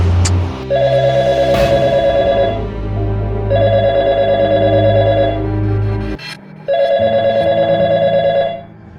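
A telephone rings loudly in repeated long bursts, three rings with brief pauses between them, with no voices.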